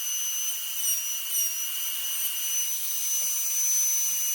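Dremel rotary tool fitted with diamond burrs carving, a steady high-pitched whine held throughout, close and continuous with faint small scraping noises underneath.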